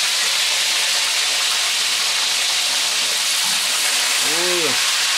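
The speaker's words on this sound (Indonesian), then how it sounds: "nah, ini sudah mulai penggorengan." Catfish deep-frying in hot oil, seasoned with garlic, at a Banyuwangi food stall, gives a steady, loud, dense sizzle and hiss through the whole stretch, with a short voiced sound rising briefly near the end.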